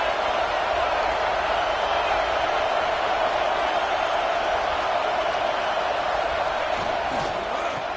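Roaring stadium crowd at a football game, a loud, steady wash of massed voices that holds without a break under faint commentary.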